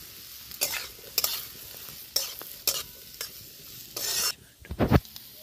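Six seeded, finely chopped tomatoes stirred into a pan with frying onion and chilli, sizzling steadily while a spatula scrapes in irregular bursts, several short and one longer, ending in a cluster of quick strokes, close with no talking.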